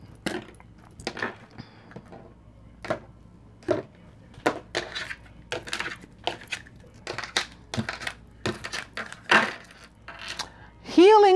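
A deck of tarot cards is cut and handled, making a steady run of crisp, sharp card clicks and slaps at close range, with light rustling between them.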